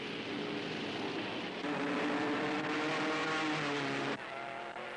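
Auto Union 16-cylinder racing cars set off together, a dense loud roar of high-revving engines holding steady, then dropping slightly in level near the end.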